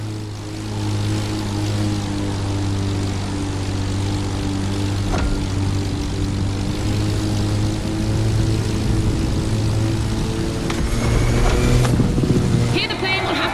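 A propeller plane in the racing game The Crew Motorfest drones with a steady, close engine hum and buzzing harmonics, plus a few brief whooshes and clicks.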